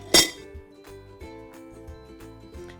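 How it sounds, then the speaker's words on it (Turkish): A heat-resistant plate set down into a steamer pot over water gives one sharp ceramic clink near the start, followed by faint ringing and quiet kitchen noise. "Üzerine ısıya dayadıklı herhangi bir tabağımı koyuyorum."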